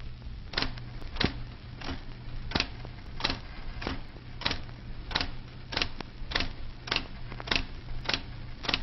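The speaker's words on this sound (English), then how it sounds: "This is what your typewriter should sound like at 20 words a minute" Slow, evenly spaced typewriter keystrokes, each a sharp clack about every half second, over a steady background hum.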